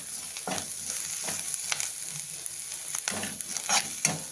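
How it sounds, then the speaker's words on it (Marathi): Masala sautéing in oil with curry leaves and coriander for katachi amti, a soft constant sizzle broken by repeated spatula scrapes and stirs in an uneven rhythm, close by, with no speech. "छान याचं तेल सुटेपर्यंत आपल्याला छान असं परतून घ्यायचं"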